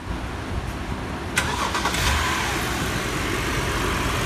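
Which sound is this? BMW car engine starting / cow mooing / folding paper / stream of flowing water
BMW car engine starting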